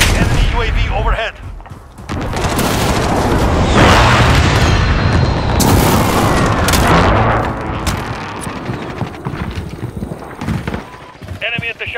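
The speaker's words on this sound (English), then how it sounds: "Allied precision airstrike incoming." Precision airstrike pounding the Shoot House map in a first-person shooter game: a heavy, rolling barrage of booming blasts and gunfire that swells loud for several seconds, then tails off into scattered shots with voices chattering over it.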